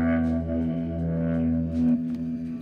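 Psychedelic guitar run through distortion and delay pedals into a distorted amp, a thick sustained droning tone with layered repeats, loud and continuous with no talking.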